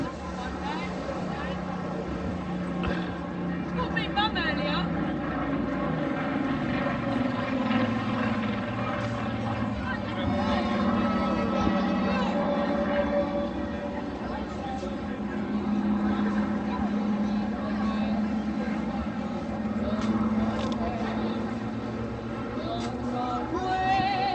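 Aircraft of the RAF Battle of Britain Memorial Flight flying a display at the Clacton-on-Sea air show, Essex, a steady loud engine and propeller drone holding throughout, with people talking over it.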